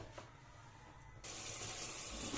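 Tap water runs over green beans being washed in a kitchen sink, starting abruptly partway through and then pouring in a steady, close, even rush.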